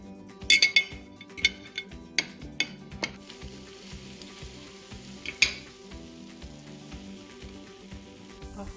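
Egg-and-milk dipped French toast with cinnamon frying in a pan, a soft steady sizzle running throughout, broken by several sharp clinks and scrapes of a utensil against the pan in the first few seconds.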